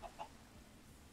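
Chicken in the video game Minecraft giving two quick, faint clucks in close succession, followed by quiet background hiss.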